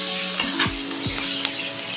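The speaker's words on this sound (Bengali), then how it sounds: "এটাকে ভাজতে দেবো।" Elephant foot yam and potato pieces frying in a pan give a steady, close sizzle throughout, with a couple of brief stirring scrapes.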